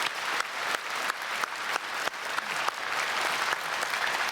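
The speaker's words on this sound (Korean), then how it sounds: "우리 다 같이 크게 다시 한번 박수하겠습니다." Congregation applause at an early-morning special service in a large Korean church, steady clapping from a big crowd filling the hall, moderately loud and continuous throughout.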